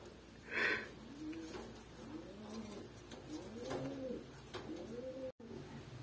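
A racing pigeon coos in repeated soft, rounded phrases against quiet background noise, with one brief higher chirp near the start.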